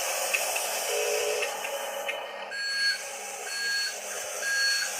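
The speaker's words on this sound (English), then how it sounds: "our backup beeper going in reverse" A Laegendary Buckster toy vehicle backs up on gravel, its reversing beeper sounding as repeated short, high electronic tones over a steady hiss, clear and fairly close.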